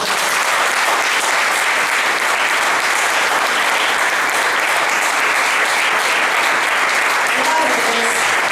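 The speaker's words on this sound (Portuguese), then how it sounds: "Dê um aplauso, Senhor." Church congregation applause, a sustained, even roar of many hands clapping at constant loudness from start to finish, with a few faint voices calling out near the end.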